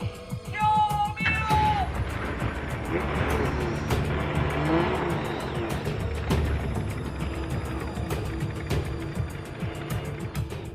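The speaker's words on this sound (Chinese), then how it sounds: "发动机的噪音轻而易举就可以掩盖掉人声" Engine noise inside the cab of a modified vehicle whose engine sound is piped into the cabin, a loud continuous roar with rhythmic pulsing and high squealing tones that stays dense throughout, masking everything else.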